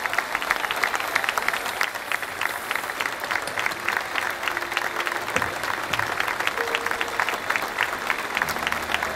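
Crowd applause at a concert in Câmara de Lobos celebrating forty years of music, a sustained, even wash of many clapping hands lasting about nine seconds, with only faint stray voices underneath.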